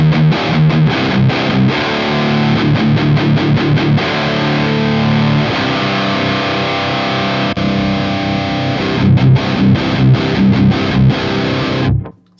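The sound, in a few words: distorted guitar tone through Generator MK III Rev B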